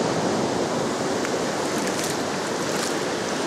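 Surf on the beach at Betalbatim, South Goa, at sunset on the Indian Ocean, a steady, loud, broadband wash of breaking waves with no pauses and no voices.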